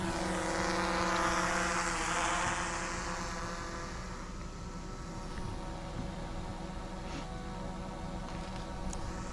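A camera drone flies outdoors near rocky ground with a continuous buzzing propeller whine that holds steady and loud, rising and drifting slightly in pitch, with no talk.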